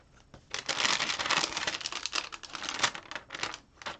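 A page is torn out of a book, a close dry ripping and crinkling of paper that runs in a dense, fluttering burst for several seconds with no voices.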